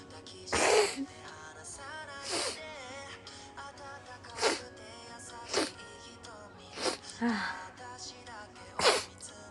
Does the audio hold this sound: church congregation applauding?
no